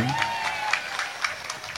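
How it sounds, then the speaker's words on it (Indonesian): Audience at a gathering claps steadily in a brief, moderately loud burst while a voice speaks over the applause. "Tepuk tangan untuk kita semua."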